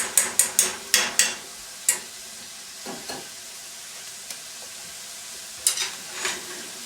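Arame seaweed goes into a pan layered with celery for stir-frying, with a rapid run of sharp metallic taps at the start, then sparse knocks and a soft sizzle, close, with no speech.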